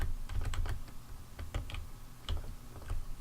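Typing on a computer keyboard, a run of quick, uneven clicks and key taps at close range, with short pauses between bursts and no voices.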